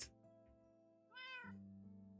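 A single drawn-out meow from Bella, a pet cat in a solo Minecraft survival world, rising then falling over about half a second, clear and close above a steady low droning background, with no talking.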